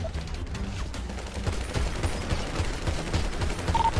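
Gunfire in the video game GTA V during a roleplay shootout, with a dense continuous clatter of rapid shots and mechanical noise filling the whole stretch at steady loudness.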